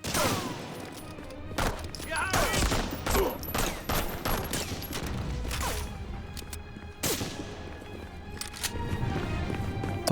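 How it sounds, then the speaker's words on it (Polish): Pistol fire in the 2002 shooter Medal of Honor Frontline: several sharp, loud gunshots ring out in quick bursts with echoing tails, along with other game sounds. "bawimy się teraz z pistoletem, ponieważ M1 Garant nie jest tak szybko strzelny, chociażby jak ten pistolet"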